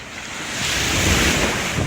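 Rough waves on the Pacific Ocean, a loud surging wash of surf building and sustained over a couple of seconds, mixed with wind buffeting the microphone, without any voices.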